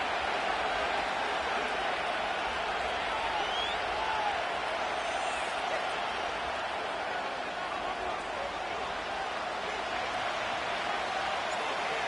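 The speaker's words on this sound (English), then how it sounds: "A good crowd on hand and seemingly ready to go in the Motor City." Stadium crowd at Ford Field in the Madden 25 football video game: a steady, dense roar of distant cheering with no breaks, running under commentary.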